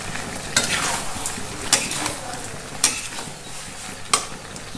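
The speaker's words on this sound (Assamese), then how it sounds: "মিট মশলাখিনি দি আৰু অকণমান ধুনীয়াকৈ ভাজি ল'ম" Duck meat frying with meat masala in a pan over a high flame, a continuous loud sizzle broken by regular scraping strokes as the pieces are stirred, roughly once every second.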